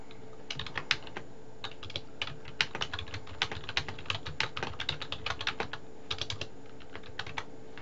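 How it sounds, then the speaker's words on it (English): Typing on a computer keyboard, a quick irregular patter of crisp key clicks, close and fairly quiet, with no voices. "So I'm going to go ahead and type something."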